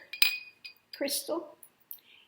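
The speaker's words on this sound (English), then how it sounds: "And then I have my glass straw." Glass straw clinking against a drinking glass of crystal water, a few sharp bright clinks and rattles in quick succession, close and fairly loud, with no talking.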